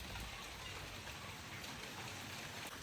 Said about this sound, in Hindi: अभी बारिश जो है बहुत तेज़ आ चुकी है